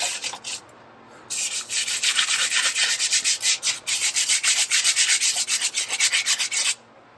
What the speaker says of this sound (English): try the sandpaper. See if this goes any faster.